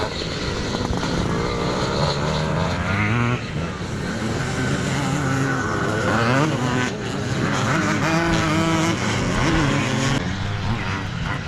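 Motocross motorcycles, including a Yamaha YZ ridden in third place, race at a classic grand national event, their engines droning loudly and continuously with rising and falling revs as bikes pass.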